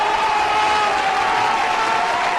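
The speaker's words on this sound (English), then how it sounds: "Give him a round of applause." A steady wash of clapping hands, like a crowd applauding, holding at an even level throughout with no pauses.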